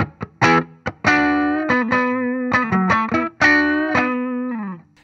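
Electric guitar played through a Redbeard Effects Angry Rhubarb overdrive pedal at low gain into a Fender Deluxe Reverb, a mildly overdriven, slightly fuzzy tone, with short picked notes and chords ringing out in a loose rhythm, alone.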